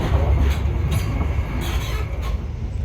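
Steady rumbling noise inside an Intercity 125 high-speed train, with faint high-pitched squeaks and rattles from the communication corridor, continuous and fairly loud throughout.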